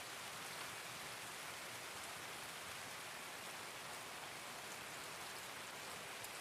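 Heavy rain in the video game Escape from Tarkov, a loud, dense, unbroken hiss of downpour with no talk, steady from start to finish.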